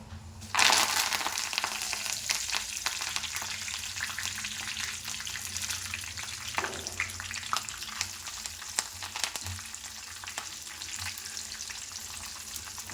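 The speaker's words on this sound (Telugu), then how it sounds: "ఫ్రై చేసి చూడండి కరివేపాకు అదే ఆయిల్లో" Chicken pakodi pieces and curry leaves crackle and sizzle steadily in hot oil, a dense close frying hiss lasting throughout with a few brief stirring clatters and no talking.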